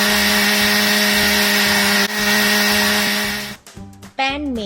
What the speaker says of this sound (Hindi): सबसे पहले हम पाइनएप्पल को मिक्सर जार में ब्लेंड कर लेंगे।